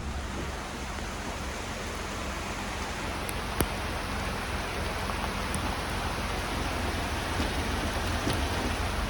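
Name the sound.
heavy rain in a jungle area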